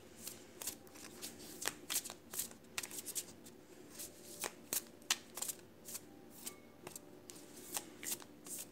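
A tarot deck being shuffled by hand, a steady run of close, crisp riffling and card slaps repeating every half second or so, fairly quiet and with no talk.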